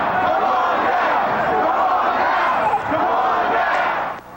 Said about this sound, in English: The chants were both chilling and infectious.